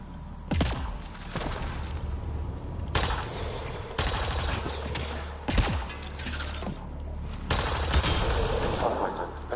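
Gunfire in Mass Effect Andromeda aimed at a canister: repeated loud bursts of rapid shots in several clusters across the span, close and sharp, with no talk.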